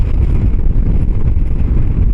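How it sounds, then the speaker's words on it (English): Strong wind buffeting a microphone outdoors in Northumberland's open countryside, a loud continuous low roar with gusty fluctuations and no talking. "It's too windy."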